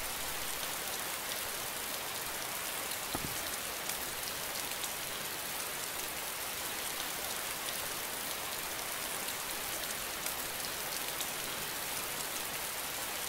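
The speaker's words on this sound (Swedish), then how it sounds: "Nu regnar det här." Steady rain falls continuously for several seconds in the video game DayZ Standalone, a dense, even hiss of drops on surfaces with no voices or other sounds.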